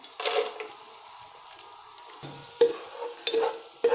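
Cashews and raisins frying in hot ghee for ghee rice, a soft crackling sizzle with a few light stirring clinks and scrapes, close and fairly quiet, with no talking.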